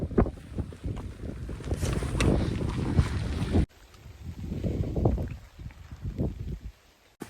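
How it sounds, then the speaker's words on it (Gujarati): Strong wind buffets the microphone in heavy, roaring gusts during a rainy climb up Markandeya mountain at about 4,383 feet, with a sudden drop partway through before the gusts build again. "વરસાદી છે અને પવન પણ વધારે છે"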